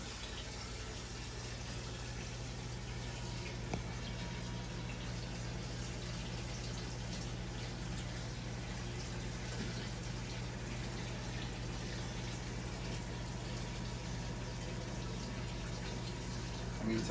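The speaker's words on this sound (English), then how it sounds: "So we are gonna add just a little bit more water." Water pours steadily into a turtle tank, a constant close rushing and bubbling that continues evenly throughout with no talk over it.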